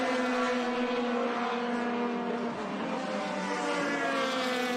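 Open-wheel formula race cars at Laguna Seca blare past in a loud, sustained engine note that bends downward in pitch as they pass, with no talk over it.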